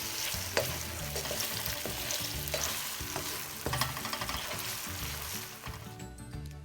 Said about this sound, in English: So stir up my shrimp, which basically is done.